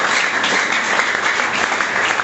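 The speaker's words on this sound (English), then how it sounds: "can you clap once again for IT for Youth?" Sustained applause from an audience at a school debate event, dense steady clapping at close range with no voices above it, holding evenly throughout.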